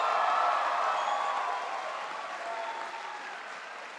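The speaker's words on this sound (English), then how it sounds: "Let's give him a round of applause." Sustained applause from a crowd welcoming Senator Bernie Sanders at a free-tuition proposal event with Andrew Cuomo, dense and steady at first, then gradually thinning and fading slightly over four seconds.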